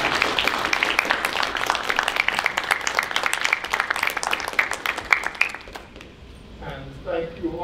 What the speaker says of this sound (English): I would like to thank and for you to acknowledge, maybe with some clapping, are the panelists